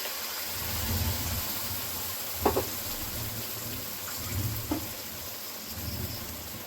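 Poppy seed paste ground with green chilli sizzles in a pan with lightly fried onion, a steady soft hiss of frying with a couple of brief clinks, close and alone.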